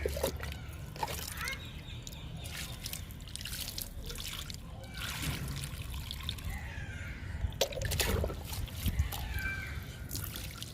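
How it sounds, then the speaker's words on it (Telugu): Water is poured slowly onto three potted plants growing in soil-filled waste cans, giving a soft, uneven trickle and dribble over a steady low background hum. "ఇప్పుడు ఈ మూడు మొక్కలకి వాటిస్తున్నాను"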